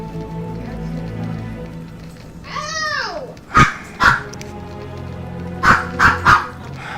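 Dogs bark indoors in two close bursts: a pair of sharp barks, then three more in quick succession, preceded by a brief whining, yelping sound.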